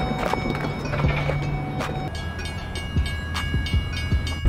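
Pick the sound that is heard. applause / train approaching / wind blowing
train approaching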